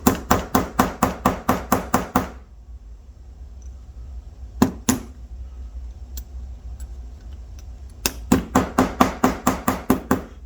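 A small mallet hammers 24k gold flat on a hard surface, giving a fast, even run of sharp, close metallic taps, then a quiet pause with two isolated strikes, then another quick steady series.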